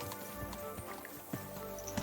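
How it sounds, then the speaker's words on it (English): Horse hooves clip-clopping in Kingdom Come: Deliverance II, a few soft irregular hoofbeats under a layered game soundscape with music, moderately quiet. "Horse."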